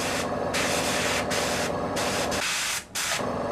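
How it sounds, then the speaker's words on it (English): Steady hissing bursts of paint sprayed through a mask onto a military model figure, several in a row with short gaps between them, loud and close. "Spray through our mask"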